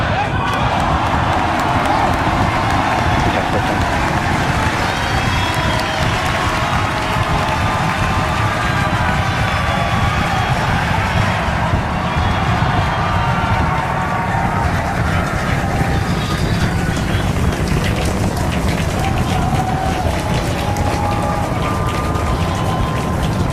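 SpaceX Starship Super Heavy booster launch with Raptor engines, a dense sustained roar filling the whole stretch, loud and unbroken, with crowd noise and commentary voices mixed underneath.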